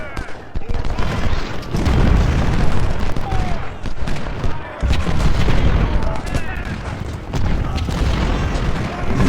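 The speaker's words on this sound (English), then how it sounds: "Going to put Schultz with the artillery up across the river there and let him give some fire support to Zook" Artillery fire in a Civil War video game, a dense continuous roll of booming cannon and scattered gunfire with overlapping blasts throughout, mixed with other battle noise.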